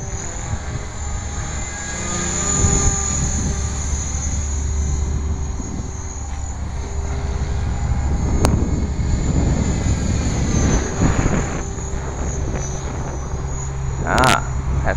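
Align T-Rex 500 RC helicopter flying outdoors in wind, a steady high-pitched rotor and motor whine sustained throughout, with voices talking under it and a few sharp clicks near the end.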